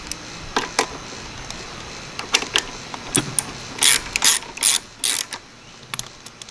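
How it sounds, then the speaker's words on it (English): Scattered clicks, snaps and small plastic-and-metal clatters as the air cleaner is pulled off a Briggs and Stratton lawn mower engine, close up, with a few louder bursts of rattling toward the end and no talk. "let's get the air cleaner off"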